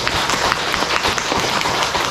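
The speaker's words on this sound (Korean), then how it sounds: "박수 한번 쳐보세요" An audience at a church health lecture claps together, a dense, steady patter of many hands close by that runs unbroken for about two seconds.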